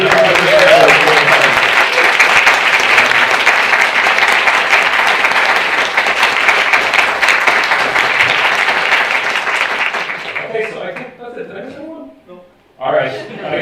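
Sustained audience applause at a conference, loud and dense for about ten seconds before thinning out as a voice begins speaking over the fading claps.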